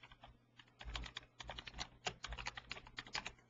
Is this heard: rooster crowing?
no